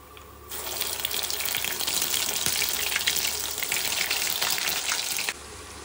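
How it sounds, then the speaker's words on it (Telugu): Ginger garlic paste dropped into hot boiling oil for a chicken pickle, breaking into a loud, dense sizzle that holds steady for about five seconds and then cuts off sharply. "ఈ అల్లం వెల్లుల్లి పేస్ట్ని ఇప్పుడు ఈ బాయిల్ అయిన ఆయిల్లో వేసేసి వేపుకోవాలన్నమాట"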